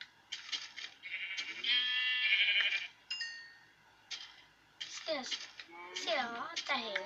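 Sheep in the Minecraft video game bleat repeatedly in short, wavering calls spread across the clip, some overlapping, with a young voice speaking at times between them.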